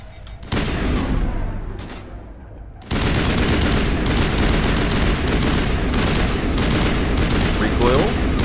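Sniper rifle shots ring out in a 2007 space RPG video game, a dense run of loud gunfire blasts over a steady wash of game noise after a short quieter stretch, with speech mixed in.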